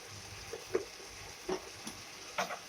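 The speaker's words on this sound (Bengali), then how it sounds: "এখন ভালো করে 2 মিনিট নাড়তে থাকবো।" A spoon stirring a pumpkin stalk, ridge gourd and potato poppy-seed curry in a pan, a few faint scrapes and light taps spaced irregularly over a soft sizzling hiss, close and quiet.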